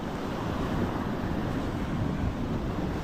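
Continuous roar of surf on a black-sand beach, steady and loud throughout with broadband wash and wind buffeting the microphone, no distinct breaks between waves.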